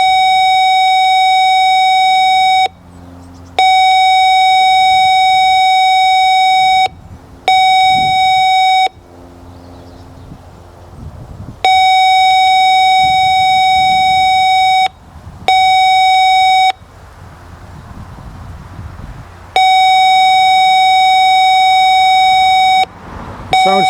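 Sensor output from a heliograph transmitter rendered as loud electronic tone pulses: a steady high beep switching on and off in uneven bursts of a few seconds, separated by short quieter gaps with background noise.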